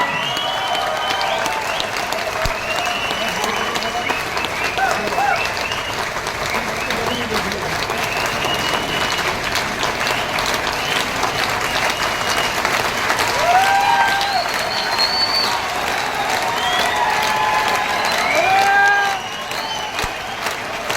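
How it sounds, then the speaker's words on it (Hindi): A large audience at a speech in Surat applauds steadily for about twenty seconds, a dense and loud wash of clapping with scattered cheers and crowd noise throughout. "तालियां"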